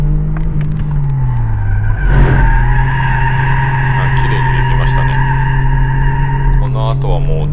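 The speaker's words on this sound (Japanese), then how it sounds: "あとはもう全部問題なくドリフトできるようになってますね、綺麗に。" Continuous tyre squeal from a car drifting without power steering, loud and close over a steady engine drone, with a brief louder scrub in the middle; someone talks over it.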